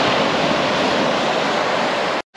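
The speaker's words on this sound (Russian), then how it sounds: "Волны поднялись такие хорошенькие" Sea waves break on the pebbly Black Sea beach of Chorny Bugor at Alupka near Yalta, a loud, continuous close-up wash of surf before an abrupt cutoff at the end.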